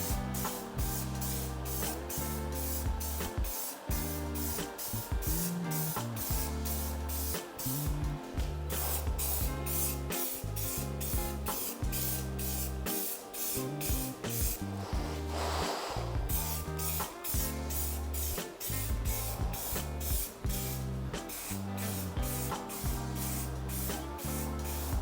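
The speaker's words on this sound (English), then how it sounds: "So we will spray it." Spray paint hisses from an aerosol can onto a homemade Clone Trooper DC15-A blaster prop in short, breathy bursts. A rhythmic musical backing plays steadily throughout.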